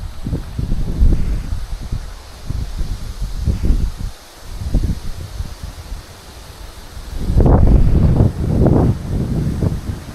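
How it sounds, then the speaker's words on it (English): Gusty wind blows outdoors, loud rushing bursts hitting the microphone and rising and falling over several seconds, strongest near the end, with no voices. "Windy wind."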